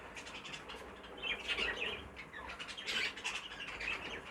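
A cock bird in a pair of blue birds gives sharp squawks and chirps in short bursts, fairly faint, with soft rustling between calls.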